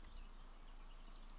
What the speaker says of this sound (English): we can hear the birds tweeting again.